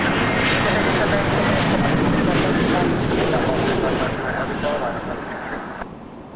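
A plane roars down the runway on its takeoff run at Toronto Pearson Airport, a broad, loud engine rumble that slowly fades as it pulls away, with faint wind noise over the microphone.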